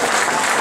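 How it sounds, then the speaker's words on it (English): Dense, steady round of applause from a large audience at a 2018 Saviors' Day gathering, loud and continuous throughout with no talking over it. "Let's give Harriet Tubman another round of applause."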